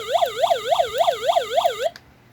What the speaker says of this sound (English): And it has an alarm mode.